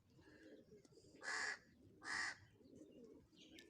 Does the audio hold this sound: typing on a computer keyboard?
no